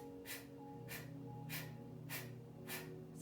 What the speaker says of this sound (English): So you exhale sharply and you're gonna inhale just as sharply.